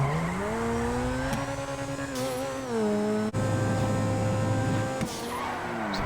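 Grotti Turismo R supercar in GTA Online driving hard, its engine note climbing and dropping through gear shifts with brief tire squeal, loud and continuous throughout.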